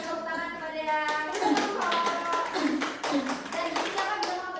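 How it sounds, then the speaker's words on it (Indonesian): Classroom of pupils clapping for a classmate, a run of sharp, fairly even hand claps up close, with a teacher's and children's voices under the clapping at the start. "Beri tepuk tangan kepada yang"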